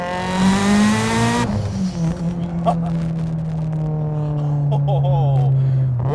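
A 650 WHP Mitsubishi Evo 8 launches hard, its engine revving high and then pulling in a lower gear with steady loud drone, a brief shift-like break early, under excited voices in the cabin.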